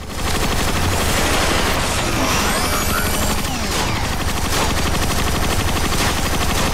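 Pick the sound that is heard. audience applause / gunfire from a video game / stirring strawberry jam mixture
gunfire from a video game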